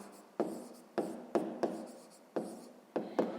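Pen strokes writing decimal numbers on paper during a fifth-grade maths exercise, a series of short scratchy bursts in an irregular rhythm, close and fairly quiet, with no voices.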